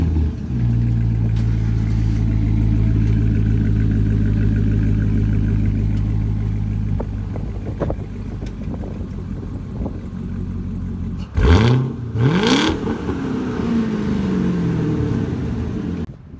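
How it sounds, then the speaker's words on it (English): A 757-horsepower Callaway Corvette Z06 engine rumbles at a deep idle through its double D exhaust, then snaps through a couple of sharp, loud revs and settles back to a growl. "So we got to hear this double D exhaust first off."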